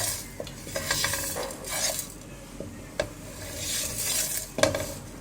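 Ingredients roasting in a pan over a low stove flame, soft sizzling broken by repeated scraping and stirring strokes and a few sharp metallic clinks of utensil against pan.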